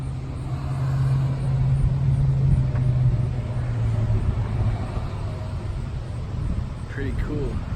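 A huge mud-covered monster truck rumbles past with a low engine drone that swells and fades, while people chat nearby over the noise.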